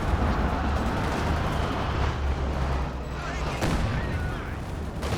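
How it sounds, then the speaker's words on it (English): Mortar rounds landing in a Company of Heroes 2 match, a dense, continuous rumble of battlefield blasts and gunfire with a louder crack near the middle, steady and loud throughout. "The mortars still land some decent hits"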